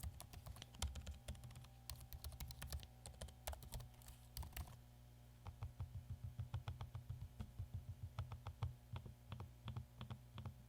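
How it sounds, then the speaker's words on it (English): Typing on a Razer Blade 14 laptop keyboard with trackpad clicks, a dense run of close, crisp key taps that thins into sparser, spaced clicks partway through, steady and near with no talking. "Here's a little audio sample of both the keyboard and the trackpad."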